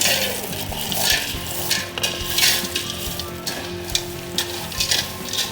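Chex party mix of cereal and pretzels tossed in a hot pan, giving rustling, scraping stirs with light clinks of utensil on metal and a faint sizzle, arriving in uneven bursts.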